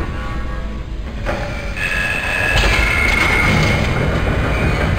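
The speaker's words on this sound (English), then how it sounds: "Replacing damaged tram car." A heavy tram car in the video game Dead Space Demake PSX rumbles steadily along the tracks, with a high metallic whine rising partway through and continuing to the end.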